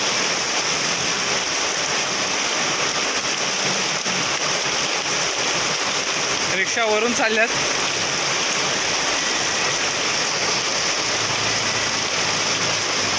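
Floodwater and heavy rain on a street in Kharghar Sector 19, Navi Mumbai, where cars sit half submerged. A loud, constant rush of rain and moving water continues while a voice speaks briefly in the middle.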